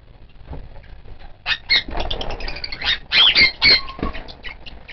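Pet parrots, including parakeets, give several loud, sharp squawks in close bursts, clustered near the middle of the moment against a quiet room with soft rustling.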